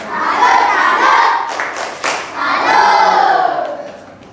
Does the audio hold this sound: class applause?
yes